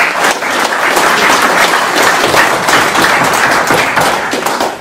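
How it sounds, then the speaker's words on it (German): Dense, loud applause from a gathered audience at a motorcycle club event, many hands clapping steadily and close for the whole stretch. "das ist ein Applaus wert"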